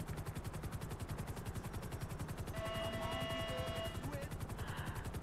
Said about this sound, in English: let me go ahead and move out the way so you guys could see the helicopter grabbing him